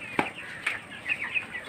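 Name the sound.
broiler chickens clucking on a farm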